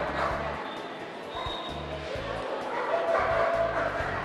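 A Maremma Abruzzese sheepdog barks at a dog show, giving several short barks in quick bursts amid crowd murmur and a voice on a loudspeaker.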